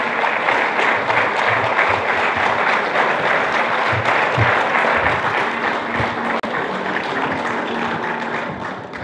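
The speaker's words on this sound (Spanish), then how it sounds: "vamos a invitar con fuertes aplausos" A loud, sustained round of applause rises from a seminar audience welcoming a visiting pastor, a thick, even wash of clapping hands lasting several seconds and fading slightly at the end.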